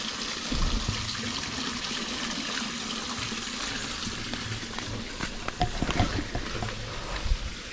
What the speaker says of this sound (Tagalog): May agos dito.